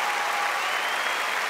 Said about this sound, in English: Let's give them another great big round of applause